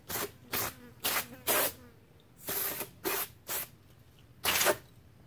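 Short hissing bursts from an aerosol spray can, about nine quick sprays in an uneven rhythm, close and fairly quiet, with no talking.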